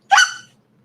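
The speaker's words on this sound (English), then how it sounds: "I have hiccups. Hang on." One sharp, close hiccup bursts out, a short voiced catch that fades quickly into silence.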